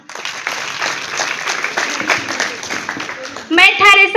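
A group claps enthusiastically for a few seconds, dense applause filling the room, before a voice begins speaking at the end.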